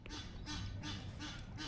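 Ducks quacking in a loose series of repeated calls over steady outdoor background noise, moderately close, with no talking over them.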